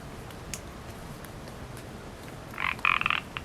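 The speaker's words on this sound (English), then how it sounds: "Got a frog singing" Near the end, a frog gives a single short rattling croak, fairly close and distinct, against constant outdoor background noise.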